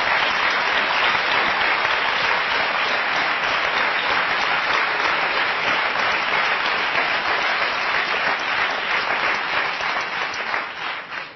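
A French television studio audience applauds on a 1995 talk show, with thick, sustained clapping that fills the room at full strength for over ten seconds, then thins slightly at the end.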